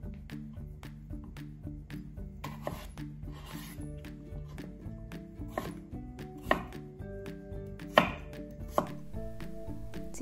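Knife chopping taro into medium pieces on a board for a Thai taro and young coconut sago dessert, with steady repeated cuts that stay close and moderately loud over faint background music.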